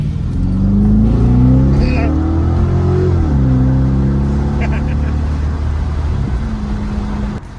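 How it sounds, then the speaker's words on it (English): Dodge Charger R/T on a test drive, engine note climbing and shifting as it accelerates, a steady loud rising drone with a gear change midway; heard from inside the car. "I'm gonna give it a little more gas."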